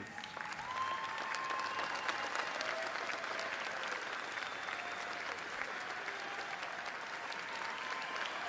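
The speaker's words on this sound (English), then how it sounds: "give the entire audience a round of applause" At a university undergraduate commencement ceremony, a large audience claps in a long, even round of applause, heard from a distance and fairly soft, sustained throughout.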